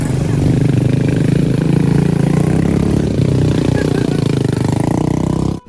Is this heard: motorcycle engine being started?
yes